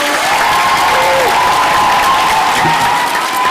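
An audience at a school debate event applauds a director, with loud, dense clapping from a crowd that holds steady throughout, plus a faint tone running underneath.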